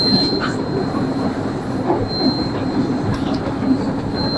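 A passenger train runs steadily on the Natore to Hili line, with a constant rumble of wheels on rails, a faint high squeal and light clatter, heard from on board with no talk.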